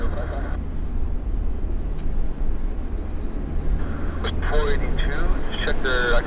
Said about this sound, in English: this is the Vancouver-Toronto Air Canada 114 777 taxiing for departure